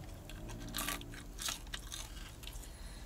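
Biting and chewing into a vending-machine BBQ chicken pizza with bacon and fluffy freshly baked dough, giving a few close, crisp crunches followed by softer mastication, with no talk.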